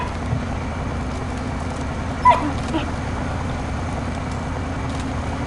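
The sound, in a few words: dog barking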